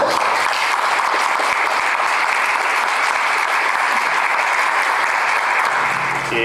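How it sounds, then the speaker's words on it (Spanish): Audience applause at a Rotary club anniversary event on public security, a steady dense wash of clapping that holds at an even, loud level throughout without pauses. "el aplauso para ustedes por la presencia"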